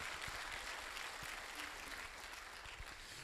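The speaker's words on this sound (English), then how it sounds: "you can give these, the educators in Boland College a big round of applause for being so inclusive" Faint, distant applause from a college graduation audience, a soft continuous patter of many hands at an afternoon ceremony, steady and slowly easing off.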